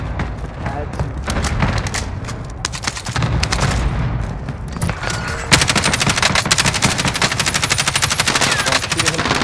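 Rapid automatic gunfire in the Warzone video game, loud and sustained bursts that grow denser and harsher midway, with players talking over the shooting.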